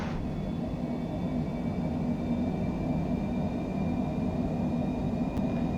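A Cessna Citation Longitude business jet rolls down the runway at takeoff power in Microsoft Flight Simulator, a steady loud engine roar and rumble with a faint whining tone, no talk.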